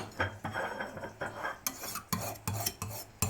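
A kitchen knife scraped along a sharpener in a series of rhythmic, gritty rasping strokes, about seven passes, close and fairly quiet, each ending in a short metallic scrape.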